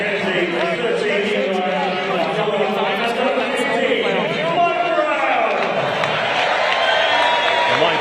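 A rugby crowd at the Twickenham Stoop applauds and cheers during a Harlequins match against the Barbarians, a sustained roar of clapping and voices with an announcer talking over it.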